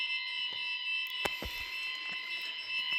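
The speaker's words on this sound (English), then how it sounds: "That's the lid alarm." A lid alarm on a Hasbro toy gives off a steady, piercing electronic tone that holds for the whole stretch, loud and close, with a few soft knocks beneath it and no talk.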